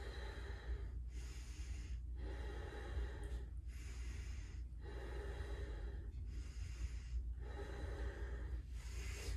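Slow, rhythmic breathing in a yoga twist pose, each long inhale and exhale close and audible, repeating about every second and a half over a steady low background hum.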